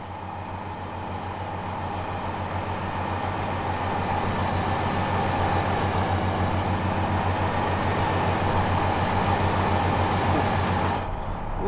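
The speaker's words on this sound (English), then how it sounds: "Love the sound of diesel motors." Class 153 diesel train in Train Sim World 5 on the Morecambe to Preston line, a steady low diesel engine drone with rumbling rail noise, continuous and close, ending with a brief hiss.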